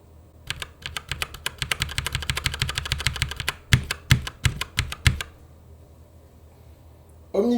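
Rapid, steady typing on a mechanical gaming keyboard with red switches, a dense run of clacks followed by several slower, louder individual keystrokes, then quiet.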